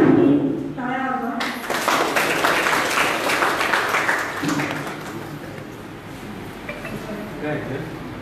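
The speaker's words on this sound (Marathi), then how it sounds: "सर्वांनी टाळ्या वाजवा." Audience applause at a felicitation ceremony in Ahmednagar during a garlanding of Savitribai Phule's portrait, sustained clapping from a crowd that gradually fades, after a voice speaks at the start.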